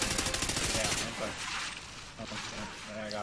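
Dense, continuous gunfire and explosions from a Call of Duty Ghosts Blitz match on the FreeFall map, a steady roar of battle noise with voices talking over it throughout.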